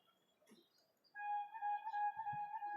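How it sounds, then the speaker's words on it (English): A bird chirping on a quiet residential street with four-storey buildings and trees on a morning after Diwali, a clear sustained whistled call rising out of near silence, with faint background sounds. "I can hear the birds chirping."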